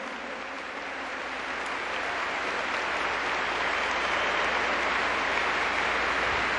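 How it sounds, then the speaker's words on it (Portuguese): Congregation at a Catholic worship service applauding steadily in a dense, sustained wash of clapping that builds slightly and continues throughout. "Aplauda mais ainda, é Ele, é o seu Rei."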